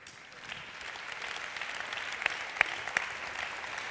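Audience applause at a business event, building over a few seconds into steady clapping with a few sharp, distinct claps standing out, heard from a moderate distance.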